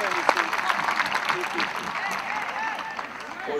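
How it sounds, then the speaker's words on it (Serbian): Crowd applause at a football match between Jedinstvo and Radnički Novi Beograd as a substituted player comes off, heard as a steady wash of clapping under a stadium announcer's voice. "pozdravimo velikim aplauzom Uroša Stevančevića"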